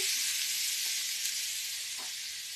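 Bacon frying in a pan produces a loud, steady high-pitched sizzle with small crackles, close and continuous, with no talk over it.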